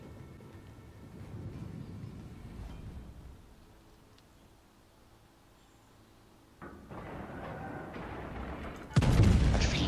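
Naval guns in World of Warships firing high-explosive shells from the battlecruiser Hood: low rumbling booms early on, then a sharper, louder salvo burst near the end over steady game ambience.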